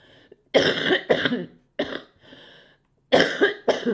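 Several close, loud coughs from a person who is ill come in two bursts, three harsh hacks, a pause, then two more, with no talk in between.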